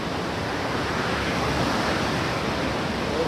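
Water rushes under a river bridge near Palani, a dense, steady roar of flowing water that stays loud and unbroken throughout, with no voices.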